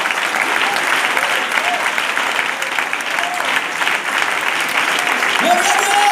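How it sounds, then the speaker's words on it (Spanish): Congregation applauding during a church sermon: a continuous, fairly loud wash of many hands clapping at once, steady throughout with no pauses and no voice on top. "Ese aplauso es para el Señor"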